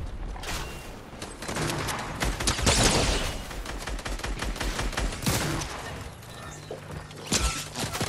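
Rapid gunshots and bursts of automatic fire crack through a Fortnite match, with mechanical clatter and impacts mixed in, loud and close throughout.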